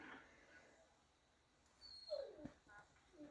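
A dog whimpers and whines faintly in the background of a quiet room, with a short rising whine near the middle and softer yips after it, and no talking.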